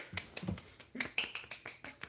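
Finger snaps or hand claps from a single person, a quick run of about ten crisp, fairly faint snaps in a steady rhythm, close by and with no talk over them.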